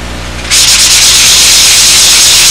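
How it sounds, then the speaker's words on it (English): After a moment of near quiet, a sanding block starts rasping steadily across wood, a continuous, close, gritty scrubbing that keeps going to the end. "you got to do some sanding with a block"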